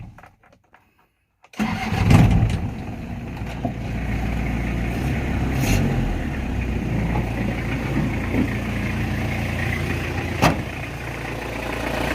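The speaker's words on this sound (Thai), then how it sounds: "มาฟังเสียงเครื่องยนต์กันต่อนะครับ" A 2004 Toyota Hilux Tiger 2.5 pickup engine cranks and catches after a brief quiet moment, then settles into a steady, even idle close by.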